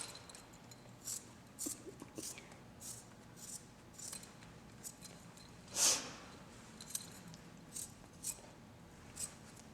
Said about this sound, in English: Now to finish it, you're going to trim the edges. It should be fairly easy to cut